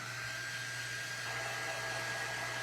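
A hair dryer blows steadily on a washboard key holder craft, a constant loud whirring hum with a fixed pitch for the whole stretch, heard alone with no talking.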